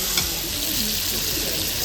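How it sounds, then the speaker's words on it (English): A chicken finger sizzler on a hot plate, served aboard a P&O cruise ship, hisses and crackles steadily and close up, a continuous loud sizzle with no talk over it. "here comes my sizzler. I can hear it sizzling."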